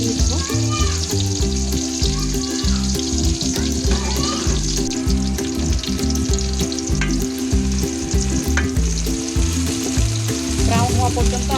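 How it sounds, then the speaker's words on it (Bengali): Onions fry in about a cup of hot oil with whole garam masala for hilsa pulao, a loud continuous sizzle up close with rhythmic stirring and a few faint clinks throughout. "হয়ে গেছে আমার পেঁয়াজটা ভাজা হয়ে গেছে"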